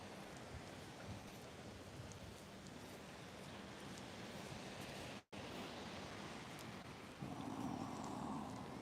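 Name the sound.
smooth ocean waves rolling in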